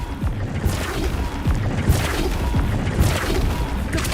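Flipendo spell impacts in Hogwarts Legacy, a loud cluster of booming thuds and crashing hits in quick succession over a dense, rumbling game backdrop.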